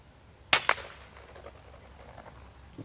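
Daystate Red Wolf Safari air rifle firing at a target 138 meters away: one sharp, loud, close crack followed by a quick second snap, then quiet background with faint trailing noise.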